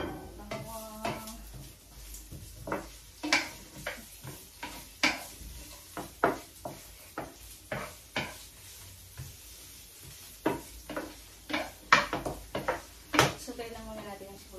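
Onion and garlic sautéing in a pan for bitter gourd: a faint sizzle under a string of sharp spatula knocks and pan clatter, with intermittent talking.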